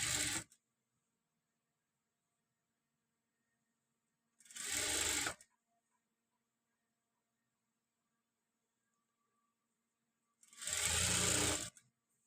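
A sewing machine stitches a folded quarter-inch hem along a saree edge, running in three separate bursts with silent pauses between, fairly close and with no voices over it.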